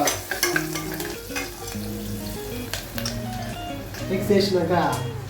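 A spoon stirring and mixing broad bean curry, goruchikudukaya with colour added, in a pan, scraping with a light sizzle in a steady rhythm, while a voice talks over it.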